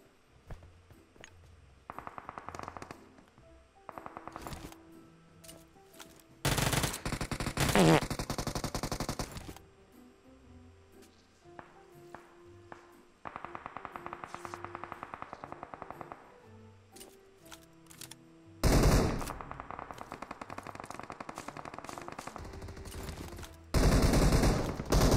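Gunfire in PUBG: repeated bursts of automatic shots in clusters of varying loudness, some near and heavy, others lighter and more distant, with quiet gaps between them.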